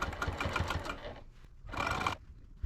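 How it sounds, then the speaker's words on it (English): A sewing machine stitches bias tape onto a quilted potholder with layers of insulation, running in two close, fast mechanical bursts separated by a brief pause, no talking. "So I am opening my bias tape up and I'm going to sew on this first fold"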